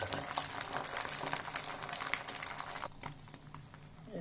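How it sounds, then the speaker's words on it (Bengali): Beaten egg seasoned with salt frying in a pan, a steady close crackling sizzle with light spatter throughout that thins out and softens toward the end. "প্রথমে ডিমটা ফেটিয়ে নিয়েছি লবণ দিয়ে একটুখানি পেঁয়াজ ছাড়াই এটা ভেজে নেব"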